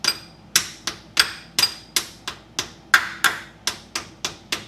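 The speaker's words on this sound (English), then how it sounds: "I'll rubber tap that in as well." A rubber mallet tapping a fuel pump eccentric onto the camshaft of a 1968 Ford XL engine, with about fifteen sharp, close knocks in a steady, fairly quick rhythm and no talk.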